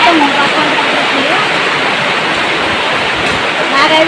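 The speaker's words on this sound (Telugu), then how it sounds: "మొత్తం వర్షం వచ్చింది" Heavy rain pours down steadily on a village home, a loud continuous hiss and splatter that never lets up.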